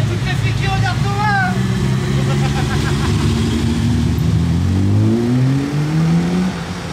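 A Ferrari F50 pulls away in Monaco: loud engine note climbing through rising revs, with several upward sweeps toward the end, under someone talking and background chatter.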